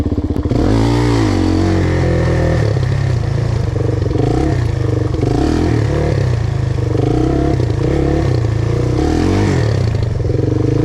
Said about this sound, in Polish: spróbuję kładem wykręcić cyrkla